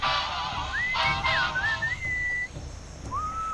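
Melodic human whistling in the video game Sam & Max Beyond Time and Space, a few rising and gliding tune phrases over a steady background hum, with a short pause before a final note.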